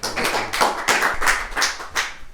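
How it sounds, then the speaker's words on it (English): A small audience at a green finance debate claps in a loose round, individual hand claps clearly separated into a rhythmic patter, moderately close and fairly quiet. "Richard, round of applause."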